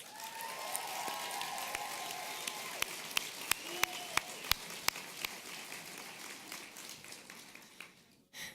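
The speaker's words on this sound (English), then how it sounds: "give them a round of applause" An audience at a Master of Social Work pinning and hooding ceremony applauds in a steady wash of clapping, with several sharper individual claps standing out near the end before it fades.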